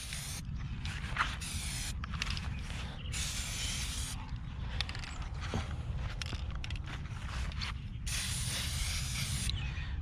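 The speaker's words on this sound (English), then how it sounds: "So I'm just going to go ahead and spray paint" Aerosol spray paint can hissing in several bursts as a rough outline is marked on dirt ground for a chicken coop base, close and steady with short pauses between sprays, over constant low outdoor rumble.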